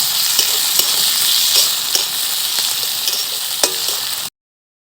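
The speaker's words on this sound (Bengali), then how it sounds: "টমেটোটাকেও একটু ভেজে নিতে হবে।" Chopped tomato fries with onions already browned in a pan, giving a steady, close hiss of sizzling oil with a few sharp crackles and soft stirring clicks until it stops abruptly.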